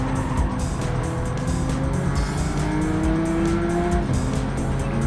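A Porsche 992 Turbo S racing in Gran Turismo 7, its engine droning steadily and loudly with shifting pitch, tire squeal and other cars passing, and no talking.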